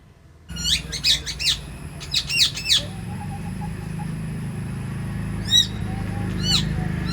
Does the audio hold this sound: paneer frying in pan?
no